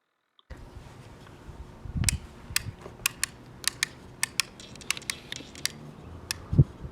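A bike helmet's rear fit dial is turned, giving a run of small, crisp ratcheting clicks at an uneven pace, close and alone, with a soft thump near the end.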